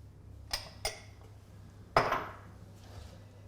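Beef being tossed with cornstarch and Chinese five-spice in a bowl, a few light clinks of utensil on the dish followed by one sharper knock, close and quiet with no talking.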